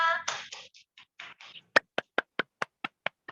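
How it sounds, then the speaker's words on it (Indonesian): A classroom group gives a short round of claps after a microteaching presentation: some brief talk first, then about ten sharp, evenly spaced claps that sound like a single person clapping. "Tepuk tangan untuk Mbak Nurrahmah."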